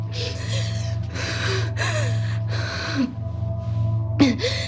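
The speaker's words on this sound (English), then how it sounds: "Just control your breathing" Heavy, rapid gasping breaths come in ragged bursts, loud and close, sounding panicked and strained, with a low steady hum underneath.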